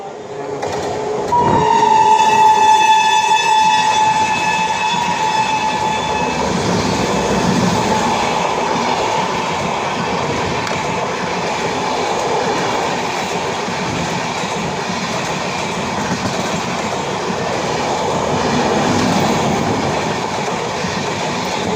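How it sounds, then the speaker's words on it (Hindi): The New Delhi–Dibrugarh Rajdhani Express passing close by on an Indian railway line, opening with a long horn blast and followed by a loud, sustained rumble and clatter of wagons rolling past. "New Delhi Dibrugarh Rajdhani express."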